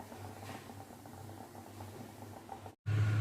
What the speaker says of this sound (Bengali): এবার এটাকে আমি তেল দিয়ে, অল্প পরিমাণ তেল দিয়ে ভেজে নেব।